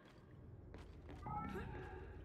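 A domestic cat meows during a co-op game session, a short tonal cry rising over background game sound and faint talk.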